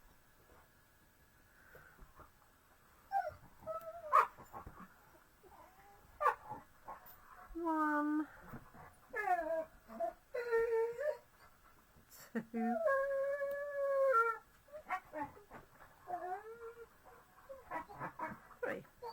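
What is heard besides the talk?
dogs whimpering and howling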